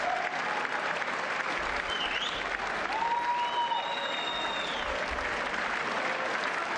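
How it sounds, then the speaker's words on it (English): Steady applause from an audience, a dense wash of clapping running throughout at an even level, with faint tonal sounds drifting over it. "A lot of applause for a Nazi."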